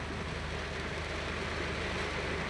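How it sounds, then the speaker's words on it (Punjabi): Heavy rain pours down steadily outdoors in a village, a constant dense hiss without breaks or talking. "ਦੇਖੋ ਕਿੰਨੇ ਜ਼ੋਰਾਂ ਦੇ ਨਾਲ ਮੀਂਹ ਪੈਣ ਡਿਆ"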